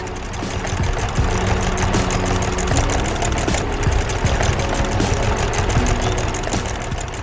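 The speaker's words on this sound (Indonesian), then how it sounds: "Traktor kuning sedang bekerja keras di ladang yang sudah dibajak" An animated yellow tractor's engine runs steadily throughout in a ploughed field, a loud, continuous low rumble with a rhythmic knocking chug and no pauses.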